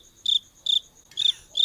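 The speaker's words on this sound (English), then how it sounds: "I can put crickets there." A cricket sound effect plays four short, shrill chirps at an even rhythm, loud and close, over near silence.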